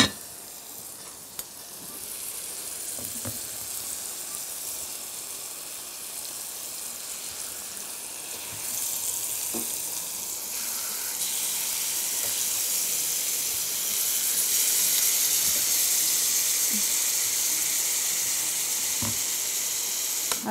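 Steak sizzles steadily in a hot pan, with a constant loud frying hiss that swells partway through as the meat is turned, and faint utensil clicks.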